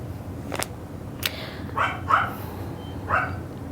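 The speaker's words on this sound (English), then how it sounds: "That's my dog." A single dog barks a few times in short, separate bursts at moderate distance over steady low background noise, with no talk.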